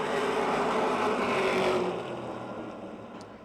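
Super late model race cars roar past on a speedway in a loud, sustained engine drone that fades a little as the field moves away, with no voices over it.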